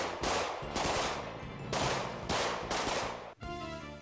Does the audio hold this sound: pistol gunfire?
yes